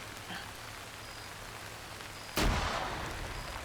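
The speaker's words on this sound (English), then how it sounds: "He throws a grenade out." A grenade bursts in a competitive video game match: a sudden loud blast after a quiet stretch, its rumble slowly fading out.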